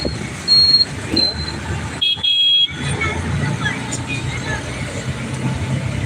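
A vehicle horn gives a few short toots amid road traffic, with voices talking nearby.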